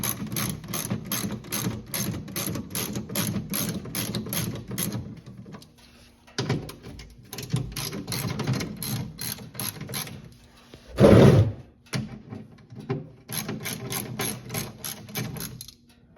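A ratchet wrench loosens bolts on a Honda Pioneer side-by-side during an oil change, steady rapid clicking in long runs broken by pauses, a brief louder clunk of metal, then more quick ratcheting, close up.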